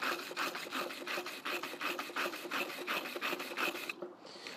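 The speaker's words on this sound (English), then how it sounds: "that's where the wire brush comes in handy. And you want to brush it." A wire brush scrubs aluminium to strip its oxide layer before brazing, making fast, rhythmic raspy strokes close by that stop abruptly near the end.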